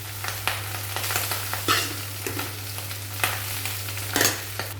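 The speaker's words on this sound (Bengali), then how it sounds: "এরপর এই ঘিয়ের মধ্যে ভাত দিয়ে দিলাম, সেদ্ধ করা ভাত" Boiled rice is stirred in hot ghee with cumin in a pan for vegetable fried rice, giving a steady sizzle broken by scraping and stirring knocks. A low hum runs underneath.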